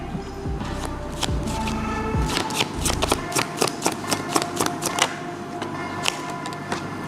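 Tarot cards are shuffled by hand up close, a run of crisp riffling flicks and taps in an uneven rhythm, with faint conversation in the background.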